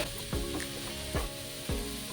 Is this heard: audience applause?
no